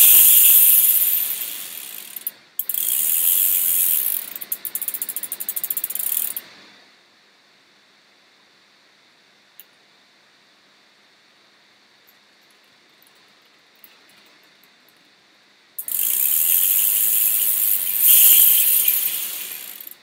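A BMX bike drivetrain with newly fitted Odyssey Thunderbolt cranks and a Sunday Knox sprocket gives a loud, rapid freewheel ratcheting buzz in two long bursts, separated by a stretch of near silence.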